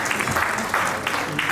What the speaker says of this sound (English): Can you please have a huge round of applause, ladies and gentlemen?